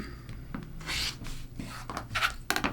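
Rotary cutter slicing through quilt fabric blocks on a cutting mat, giving a few close, scraping rubbing strokes with brief pauses between them.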